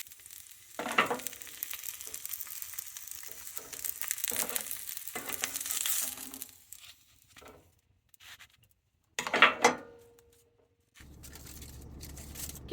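Breakfast sausage warming in a pan, with toasted bread kept warm nearby. Quiet, intermittent sizzling and scraping comes in short bursts with pauses, and a low hum sets in near the end. No one talks.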